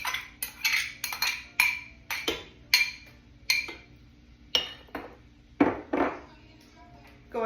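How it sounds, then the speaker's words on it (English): Pre-cut carrots dropped into a cooking pot, giving a series of close, clinking knocks in an uneven rhythm, one or two at a time. "go ahead and put my carrots in here"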